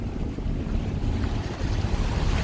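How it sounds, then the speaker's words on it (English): A sailboat heading out into the Atlantic Ocean, with loud buffeting wind rumble and rushing waves against the hull, continuous and close throughout. "So we're heading out back into the Atlantic Ocean."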